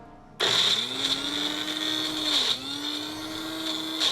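A bullet blender purees beans with a loud, steady motor whine that kicks in abruptly, dips briefly partway through and then settles back into a constant high-pitched drone.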